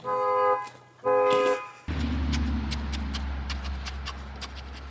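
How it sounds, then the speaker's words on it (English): A car alarm blares inside a vehicle in two loud, sustained tonal blasts. A burst of rumbling noise follows, with scattered sharp clicks. "Ava and Dre in the car, setting off the alarm."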